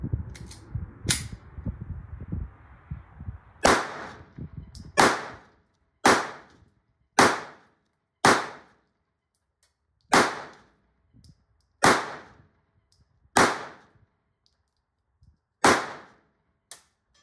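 A Glock 26 pistol fires Magtech steel-case 9mm Luger ammunition, about ten sharp, loud shots at irregular intervals with quiet gaps between them, after a brief stretch of talk at the start.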